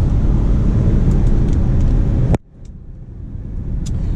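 A Lincoln MKX SUV crossover drives along with a loud, steady road and engine roar that suddenly drops away partway through, leaving a quieter, rising hum.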